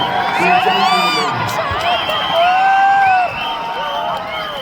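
Audience cheering and whooping at the IIFA 2024 awards in Dubai, a loud sustained crowd roar with shrill whistles and shouts throughout.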